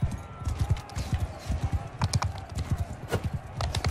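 Horse hooves clip-clop in a steady, quick rhythm in Mount & Blade II Bannerlord, close and fairly quiet, with a brief whinny-like sound and faint clicks underneath.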